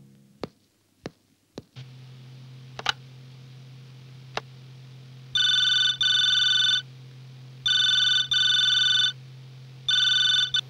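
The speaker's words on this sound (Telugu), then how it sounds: "ఫోన్ 4 సార్లు రింగ్ అయితే గానీ ఎత్తడం అలవాట లేదా?" An office telephone rings in repeated bursts of bright trilling bells, three double rings in all, loud over a steady low hum, after a few sharp ticks and clicks at the start.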